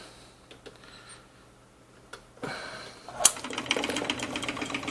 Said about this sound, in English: In use, this is a file going up and down, and you can use this to remove small amounts of metal and get a pretty good finish.